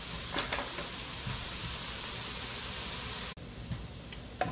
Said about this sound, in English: we're going to saute this out for about 5 minutes